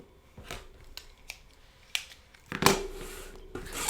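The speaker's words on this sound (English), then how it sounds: "So now we're just going to cut the rest of that zipper off" Scissors snip a zipper off a faux leather bag, giving sparse, crisp individual cuts spaced about half a second apart, then a louder, longer crunching cut near the end, close and alone.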